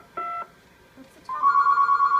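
A telephone on a dispatch console rings with an incoming call, a short electronic tone burst followed by a longer steady ringing tone, fairly loud and close with no talk over it.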